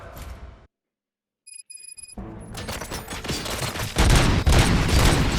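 Gunfire from the Robocop: Rogue City video game, a loud fusillade of rapid shots and bursts that builds after a brief silence and some electronic beeps, with no talking.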